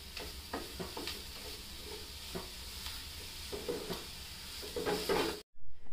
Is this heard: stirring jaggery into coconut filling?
yes